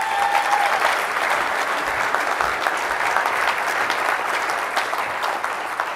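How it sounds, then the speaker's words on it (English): An audience at the 2013 American Veterans Center awards ceremony gives sustained, even applause for six seconds as an award presenter comes on stage, filling the hall with dense clapping. "Please give her a round of applause, would you please?"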